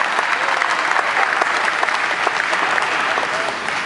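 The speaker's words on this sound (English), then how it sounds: "give a shout out and a round of applause for everyone who worked on this" Loud, close festival crowd applause, dense and continuous clapping from a large audience sustained across the whole stretch.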